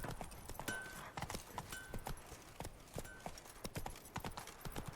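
Hooves of Roach, a horse in the video game The Witcher 3, clip-clop in a steady, fairly quick rhythm, with sharp, distinct strikes that are faint and alone.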